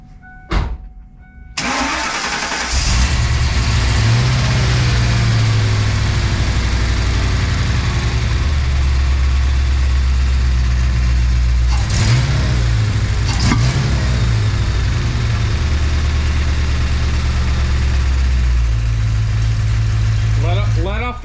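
A car engine starts after repair and settles into a loud, steady idle, rising in brief throttle revs around the middle before dropping back to a slightly stumbling idle near the end.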